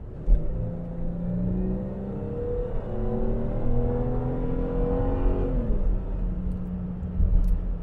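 A 2006 Ford Territory SY with a Barra engine revs up through the gears while overtaking, pitch climbing steadily before a gearshift drop, then pulling strongly again; close, loud, with no talking.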